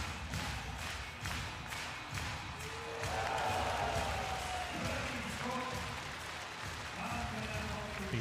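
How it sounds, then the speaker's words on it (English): Crowd cheering and applause roar up at a women's high jump meeting in Banská Bystrica, Slovakia, after a clearance above 185; a sustained, loud mass of voices and clapping fills the arena with a few thuds underneath. "You can hear from the cheers of the crowd"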